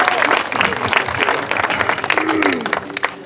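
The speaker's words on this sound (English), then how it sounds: "Let's give her a round of applause." Loud, close applause from a crowd at a resource center grand opening and dedication, with dense clapping throughout the short stretch and a voice briefly heard over it.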